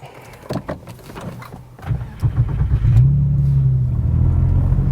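Porsche 911 Gemballa GTR BiTurbo starting up: some clicks and shuffling, then the starter catches and the engine settles into a loud, close, deep rumbling idle.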